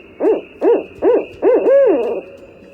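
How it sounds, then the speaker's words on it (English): A loud, close barred owl calls in a series of rhythmic hoots that rise and fall, ending in a longer drawn-out note, with a steady faint hum behind. "The barred owl."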